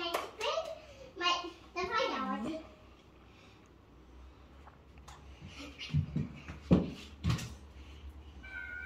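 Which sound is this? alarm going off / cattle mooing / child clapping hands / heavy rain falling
child clapping hands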